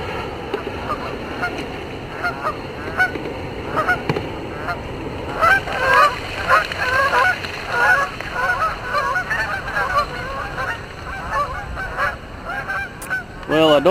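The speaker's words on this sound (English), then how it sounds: "Bunch of Canada geese." A flock of about 30 Canada geese honks continuously, many overlapping calls at mid distance over a steady wash of river water and outdoor noise.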